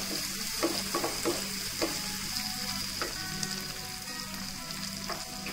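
Dried red chillies, both ordinary and Kashmiri, sizzle and fry steadily in a pan, with a dense continuous crackle punctuated by occasional sharper pops and stirring scrapes, close and moderately loud with no talking.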